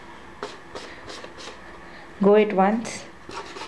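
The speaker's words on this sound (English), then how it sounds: "You can easily remove the chalk dust with cotton." Cotton wiped over a chalkboard-painted surface to clear chalk dust, giving soft, quiet rasping strokes in a steady rhythm; a voice speaks briefly partway through.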